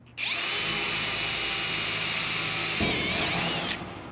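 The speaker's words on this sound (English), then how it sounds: "I'm going to drill a bunch of holes where those cross pieces go." A power drill whines steadily and loudly for about three seconds while drilling holes in metal, its pitch shifting slightly as it bites, then winds down and stops.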